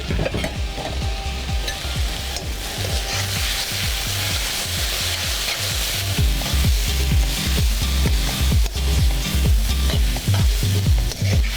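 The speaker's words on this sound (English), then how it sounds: "Can you hear that sizzling?" Loud, continuous sizzling of food frying in a hot wok, with rhythmic stirring and scraping throughout.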